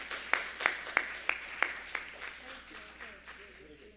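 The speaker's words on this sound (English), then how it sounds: "A big applause to the fantastic panel." A short round of applause from a conference audience for a panel on child benefits in Asia, about seven crisp claps in a regular rhythm that fade out after a couple of seconds.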